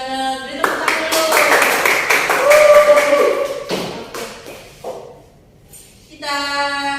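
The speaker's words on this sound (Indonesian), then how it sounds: "Beri tepuk tangan dulu." A classroom of students claps for a classmate's poem recitation, a short burst of mixed claps and taps lasting a few seconds, with a voice speaking just before and after.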